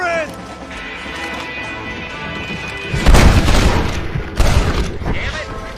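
Gunfire in the Western video game Red Dead Redemption: a heavy boom lands about three seconds in, with a second burst near four and a half seconds, over a tense music bed with a voice speaking.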